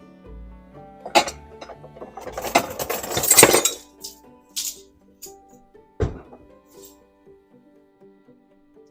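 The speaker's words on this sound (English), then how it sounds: "Let me just grab a tablespoon." Metal cutlery clatters and clinks as a tablespoon is pulled from a utensil holder in a home kitchen, a burst of rattling jangles followed by a single sharp clink and a few fading taps.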